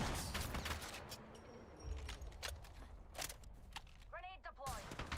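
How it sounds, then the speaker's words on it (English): Rapid bursts of gunfire in a shooter video game crackle near and far, mixed with chirping electronic game effects, while a voice talks in the background. "Listen up, I'm getting shot at."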